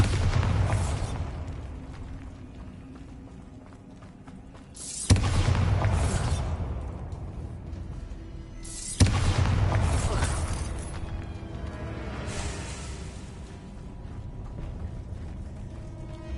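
Bombarda spell explosions in Hogwarts Legacy, three loud booming blasts spaced several seconds apart, each with a sharp onset and a long rumbling decay.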